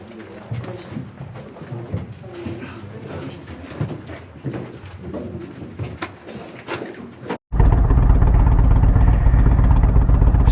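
Motorcycle on a dirt road in the Colorado Rocky Mountains backing up and pulling out of a parking lot, with the engine sounding under close wind or handling noise that drops out and then returns as a loud, steady rumble.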